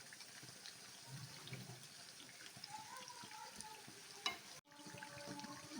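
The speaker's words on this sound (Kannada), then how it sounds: "ಆ ಕಡೆ ಈ ಕಡೆ ಚೆನ್ನಾಗಿ ತಿರುಗಿಸಿ ಚೆನ್ನಾಗಿ ಫ್ರೈ ಮಾಡಬೇಕು" Masala vada frying in hot oil on a medium flame, a faint steady sizzle and crackle with occasional stirring clinks, a brief sharp knock near the end, and a voice speaking softly over it.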